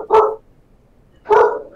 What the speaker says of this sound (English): And apparently the dog disagrees with me.